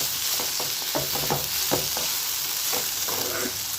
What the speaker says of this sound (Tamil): தக்காளி வெங்காயம் எல்லாம் சேர்ந்து இன்னும் கொஞ்சம் நல்லா வதங்கணும்